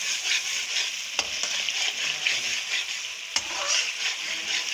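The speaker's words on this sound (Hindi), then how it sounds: "अब इसको हमने तेज तेज भूनना है ताकि जल्दी जल्दी से हो जाए" Mash daal with turmeric frying hard on high heat in a pan, a steady loud sizzle with a couple of sharp spoon knocks against the pot and continuous stirring scrapes.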